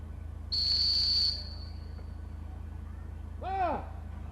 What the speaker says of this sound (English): I'd be quicker on the whistle right there